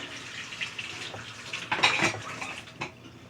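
Dishes being rinsed in a kitchen sink, with clinking of dishes and cutlery over running water; a louder splashing, clattering burst in the middle, with no talk.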